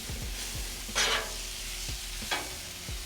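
Steak fried rice with butter and thyme sizzles gently in a pan while being stirred, low steady frying with a couple of louder scraping sweeps and soft utensil knocks, close up and no voices.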